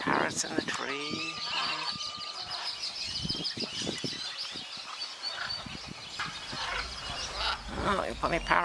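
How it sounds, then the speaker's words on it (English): Parrots perched in a tree at a Colombian aviary screech and squawk in a busy, overlapping chorus at moderate distance, with harsh calls repeating throughout and a person talking briefly among them. "Got some parrots in the tree."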